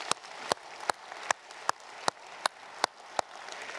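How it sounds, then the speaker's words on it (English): A church congregation applauds under a string of sharp, evenly spaced loud claps that repeat roughly every half second in a steady rhythm over softer scattered clapping. "give a big round of applause"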